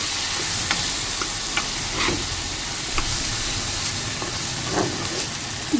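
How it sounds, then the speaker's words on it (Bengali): Okra (dherosh) bhaji frying in a pan nearly done, a dense continuous hissing sizzle close up with occasional light clicks and scrapes of stirring throughout. "এই যে আমার ঢেঁড়স ভাজিটা"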